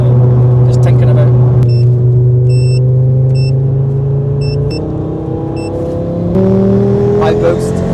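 Turbocharged car engine revving hard, its pitch climbing in stepped surges as the revs rise toward 9,000, loud and close with people talking over it and a few electronic beeps.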